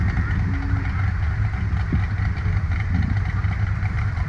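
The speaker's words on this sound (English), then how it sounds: "This is another 408 stroker LS motor" A Rum Runner off-road buggy with a 408 stroker LS V8 idles and rumbles steadily at a hill-climb event, a low continuous engine drone with faint clatter, moderately distant, with no talk.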